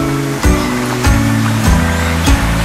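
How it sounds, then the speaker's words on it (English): Rushing water from a waterfall in a large indoor aquascape or aviary setting gives a loud, steady roar, with recurring low tonal bursts overlaying it. "It's a waterfall."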